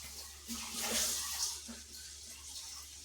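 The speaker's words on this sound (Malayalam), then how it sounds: "നമുക്ക് അതിലോട്ട് കുറച്ച് വെള്ളം ചേർത്ത് കൊടുക്കാം" Water is poured into a pan of sprouted beans, a brief, fairly soft splashing pour swelling near the middle before settling into quiet background hum.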